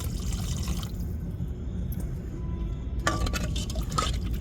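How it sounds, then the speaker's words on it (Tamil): Water is poured into a cooking pot for a fish dish, a close, steady splashing stream, quiet overall. "தண்ணி சேர்த்துக்கிருவோம்"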